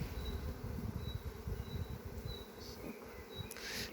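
Honeybees buzzing around their hives in an April apiary, a faint, steady drone with a few brief higher notes passing over it, no voices.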